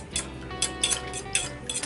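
A metal fork whisks and clinks against a pan of homemade eggnog mixture, sounding as a steady run of bright scraping and tapping strokes, close and moderately loud, with no voices.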